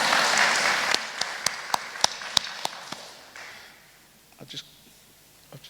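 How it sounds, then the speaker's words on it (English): Applause from members at an annual meeting fades quickly into a few distinct, scattered claps, then near silence with faint murmuring. "Omar's getting a round of applause."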